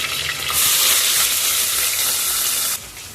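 Green chillies and onions hit hot ghee and oil for coconut milk rice, setting off a loud, steady sizzle that flares up abruptly and continues for a couple of seconds before dropping sharply.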